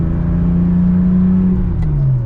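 A Porsche engine revs loud and close during a rev-matched downshift, its note rising and then dropping in a steady continuous whir with no talking.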